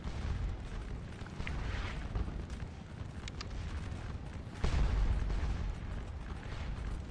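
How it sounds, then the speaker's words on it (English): Artillery fires during a Napoleonic battle at Quatre Bras in the Waterloo strategy game Scourge of War Waterloo. It makes a dense, continuous roar of distant cannon fire, with a heavier boom rising out of the din partway through. "we actually have quite a bit of artillery up here that's doing a number on some of these French"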